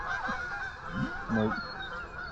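Geese honking in flight, several calls from a flock passing at some distance during an outdoor goose hunt in North Carolina near a dam, with a brief spoken word from a person nearby.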